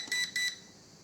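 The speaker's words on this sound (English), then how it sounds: "the transmitter is starting to emitting this long sequence of beep" WLtoys V333 drone transmitter giving two short, bright electronic beeps in quick succession, close and clear, followed by quiet.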